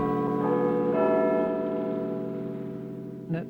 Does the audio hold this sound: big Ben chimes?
yes